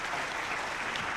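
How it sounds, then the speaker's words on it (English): Audience applause welcoming an international guest speaker at an educational leadership lecture, dense continuous clapping from a room full of people, steady and fairly loud throughout. "please big send applause for our international guest speaker today"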